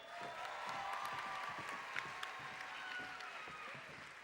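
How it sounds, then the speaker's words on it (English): Faint, distant audience applause welcomes the women's team of the step dance troupe Step Africa onto the stage. The clapping is steady and even, with a few sharper claps and voices mixed into the crowd noise. "Ladies, let's give them a round of applause."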